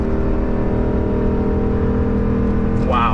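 A RAM 2500 HEMI engine drones steadily and loudly at full throttle while towing up a 6% grade, with a ZF 8-speed transmission, a constant cabin hum, and a brief voice near the end.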